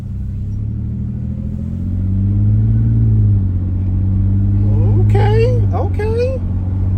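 Car fitted with a $17 cat-back exhaust pulling away, a deep close rumble that swells as the engine accelerates, with a voice talking over it.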